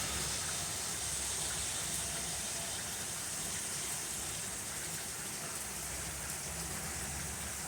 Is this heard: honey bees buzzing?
no